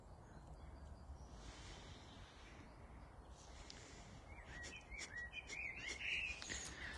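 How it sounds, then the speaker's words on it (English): Birds sing in Anderson Wood, a Scottish woodland: faint, distant chirps and short trills rise over a steady wind-like hiss, thin at first and then clustering more busily in the last couple of seconds, with no voices. "This is Anderson Wood, with the birds singing"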